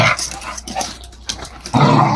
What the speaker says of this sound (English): This dog is now flirting.